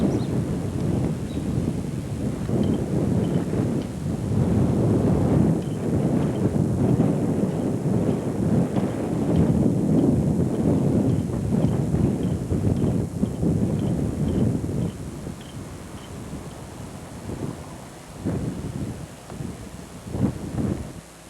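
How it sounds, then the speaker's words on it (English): Wind blows across the valley at Gettysburg, seen from Little Round Top, producing heavy gusting rumble against the microphone that swells loudest midway, then eases into scattered bumps. "And the wind's blowing"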